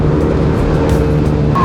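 A Honda Giorno 160cc scooter, fully upgraded, revs hard under acceleration, its steady loud engine drone close by and continuous with no pauses.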